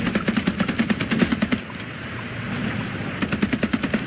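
Rapid automatic gunfire in the naval video game Age of Water, a steady rattling burst of evenly spaced shots, a brief lull, then another burst, loud and close over a continuous background rumble.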